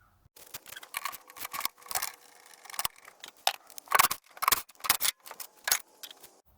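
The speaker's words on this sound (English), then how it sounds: "It takes 4 bolts, 1, 2, 3, and 4. Those are 13 millimeters, so we'll take this right out." Metallic ratcheting and clinks of a wrench loosening 13 mm bolts from a car's battery support bracket, a series of short sharp clicks and rattles, close and fairly quiet.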